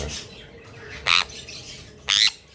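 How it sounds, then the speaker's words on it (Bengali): A pet sun conure parrot under antibiotic treatment gives two shrill, piercing calls about a second apart, close and loud, with quiet room sound between them. "করুণেরা শীষ দিচ্ছে, আশা করি শুনতে পাচ্ছ।"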